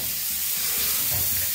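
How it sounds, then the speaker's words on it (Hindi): Onion and cumin tempering sizzling in a kadai, a steady close crackling hiss of hot oil with slight stirring movement underneath. "कढ़ाई पे और मैंने तड़का लगा दिया प्याज जीरा"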